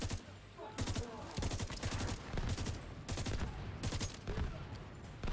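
Sustained automatic gunfire from a gun in The Division 2, rapid dense bursts running almost continuously at close range with brief pauses, loud throughout.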